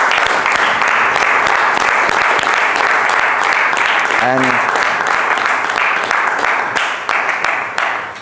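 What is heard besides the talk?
meeting audience applause for a speaker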